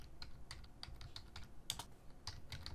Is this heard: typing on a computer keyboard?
yes